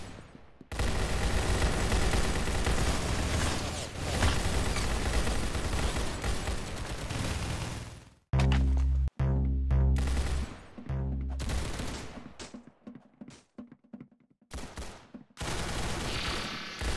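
Gunfire in the video game Arsenal, with dense bursts of rapid shots and loud blasts in the first half, then sparser separate volleys broken by short gaps and short sharp reports.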